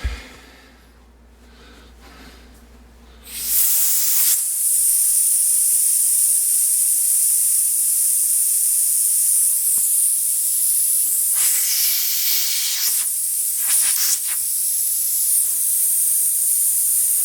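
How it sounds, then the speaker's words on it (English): Air hisses out of an inflated basketball: after a few quiet seconds a loud, steady hiss starts close by and runs continuously to the end, swelling slightly at moments. "so to let some of the air out"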